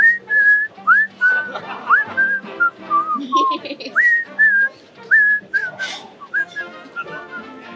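Someone whistles a tune alone, a string of short, clear melodic phrases with brief pauses between them, fairly close and moderately loud.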